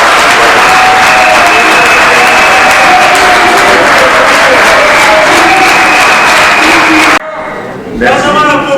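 Dense, loud applause from a large audience at a commemorative tribute event fills the hall steadily, then cuts off abruptly as a voice begins speaking.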